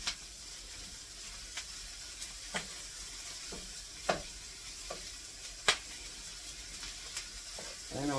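A gluten-free Big Mac casserole mixture fries in a pan with a soft continuous sizzle, broken by sharp scattered pops and a few stirring scrapes. The sound stays fairly quiet and nobody speaks.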